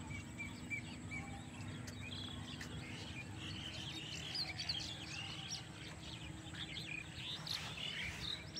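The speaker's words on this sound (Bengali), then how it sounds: "কতই না পাখিদের কিচিরমিচির শব্দ" Birds chirp and twitter in the village countryside, soft scattered calls over a constant faint insect drone, quiet and fairly distant, with no voices.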